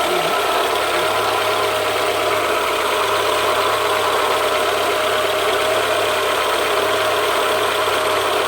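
A 1.4-litre petrol engine in a 1996 Citroën ZX Tonic idles steadily at close range, a continuous even hum with faint ticking running unchanged throughout.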